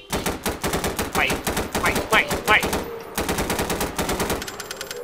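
Rapid automatic gunfire from a weapon shooting at monsters in the Siren Head horror video game, loud bursts of rattling shots with short gaps, while someone speaks briefly over the shooting.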